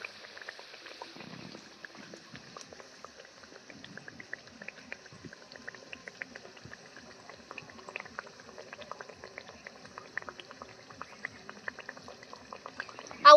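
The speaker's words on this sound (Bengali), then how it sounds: "এইভাবে সুন্দর করে আমি পুরিগুলোকে ভেজে নেব" Raj puri, a large puffed Bengali puri, frying in hot oil over medium heat, giving a steady continuous sizzle and bubbling with fine crackles throughout, close and even.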